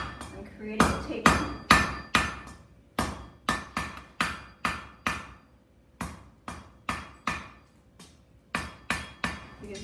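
Blacksmith hammering hot metal on an anvil while drawing out a tapered leaf end for a finial wall hook, in a museum demonstration: a steady series of sharp ringing strikes in quick bursts, close and loud, with short pauses between groups.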